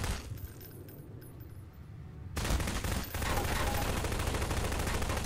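Gunshots in the video game Prop Hunt, a quiet stretch of muffled pops giving way to a sudden dense, continuous rattle of rapid fire that carries on loudly to the end.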